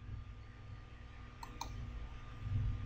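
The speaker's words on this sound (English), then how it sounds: "To do that, I click on the button Image." A computer mouse clicks on a button in the JClic puzzle-design software, giving two quick, faint, close clicks over a low room hum.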